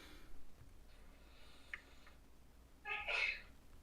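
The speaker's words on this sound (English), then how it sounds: "Bless you. Somebody sneezing." A single sneeze from someone nearby indoors, a short burst near the end of an otherwise quiet stretch with faint background noise.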